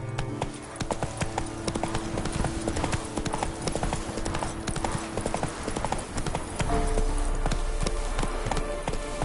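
Rapid hoofbeats of a galloping horse in The Witcher 3: Wild Hunt, a steady loud clip-clop rhythm running throughout alongside game music and a low rumble that swells near the end.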